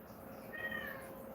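A cat lets out a single short, faint meow in the middle of a quiet room.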